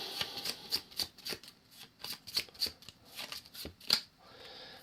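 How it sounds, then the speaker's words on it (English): Arkham Horror event cards riffle-shuffled by hand at close range, a quick run of crisp, papery bursts in an uneven rhythm, alone without talk. "Give them a shuffle."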